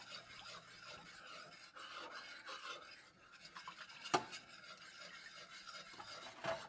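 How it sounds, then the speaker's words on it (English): Cornstarch is stirred into cold apple cider, a quiet, continuous rasping scrape of a spoon against the container with a sharper knock midway and another near the end, heard alone. "I'm going to dissolve in my cold apple juice or cider because that makes it not lumpy, okay? So just get that stirred in."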